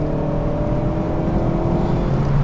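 A performance car with an H22 engine revs hard toward the red line, a loud, steady engine drone heard from close by with no talk over it.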